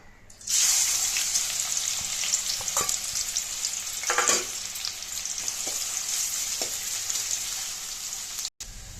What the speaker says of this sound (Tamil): இப்போது இந்த எண்ணெயில் சேர்த்து நல்லா பொன்னிறமாக வர அளவுக்கு வறுத்து எடுத்துக்கலாம்